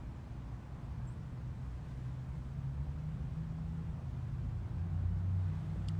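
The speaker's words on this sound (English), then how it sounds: "then I hear these engine sounds over here at the same time." A low, steady engine rumble hums quietly throughout, swelling slightly toward the end, like a car idling or rolling nearby.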